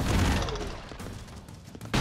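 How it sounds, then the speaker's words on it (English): Explosions and gunfire in the video game ExpendaBros, a dense continuous barrage of booms and blasts that stays loud throughout, with a fresh burst at the very end. "all the explosions down there, they just don't stop"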